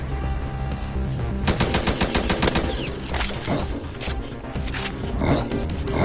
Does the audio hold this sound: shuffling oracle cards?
no